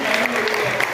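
Audience applause at a kavi sammelan and mushaira poetry recital held for Bihar Diwas, a brief burst of clapping heard under a speaking voice.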